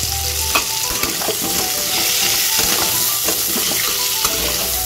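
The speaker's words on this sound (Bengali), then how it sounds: "এবার আলুগুলো ভেজে নেব।" Potatoes seasoned with turmeric and salt fry in a pan, a loud steady sizzle broken by repeated stirring scrapes and clinks throughout, with no talking.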